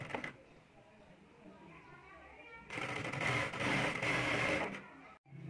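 Sewing machine stitching dori piping onto fabric, a steady mechanical whir that swells louder midway for a couple of seconds before stopping abruptly, with faint background noise around it.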